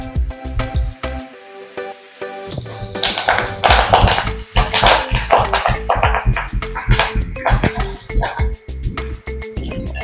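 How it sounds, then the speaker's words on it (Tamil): Ghee sizzling and crackling in a pan with drumstick leaves and a pinch of salt, busy spitting pops growing louder after a quieter start, close up. "கொஞ்சோண்டு உப்பு நெய்யில் போட்டோம்னா நல்லா பொரிஞ்சிடும்."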